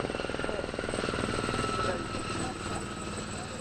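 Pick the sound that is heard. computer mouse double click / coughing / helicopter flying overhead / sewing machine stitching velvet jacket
helicopter flying overhead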